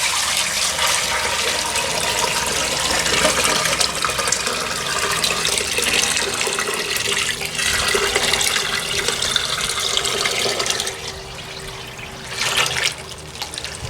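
Water is poured from a bucket into a bag of dirt while separating clay, giving a steady loud rushing gush that continues for several seconds before thinning out near the end.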